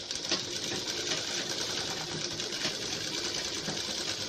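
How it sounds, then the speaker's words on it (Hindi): A sewing machine runs steadily as it puts loose basting stitches around a blouse boat neck, giving a continuous, fairly quiet mechanical whir. "यहाँ पर इसमें सिलाई लगा देंगे इस तरह से कच्ची सिलाई"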